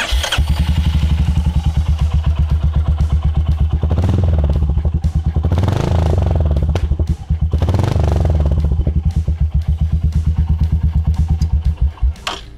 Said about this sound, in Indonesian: gua mau cek sound suara knalpotnya